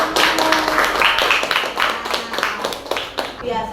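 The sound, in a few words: audience clapping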